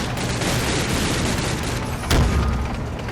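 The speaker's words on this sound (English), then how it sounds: "our infantry opens fire at the enemy infantry in the hopes of pinning them down in position" Infantry gunfire in Combat Mission: Red Thunder, a dense continuous crackle of distant rifle fire with one heavier thump partway through, no talk.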